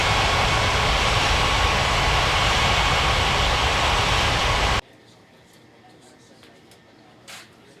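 Loud broadband roar of an airliner landing in an air traffic control game at White Center Airport, continuous for nearly five seconds then cutting abruptly to a quiet background with a brief faint blip.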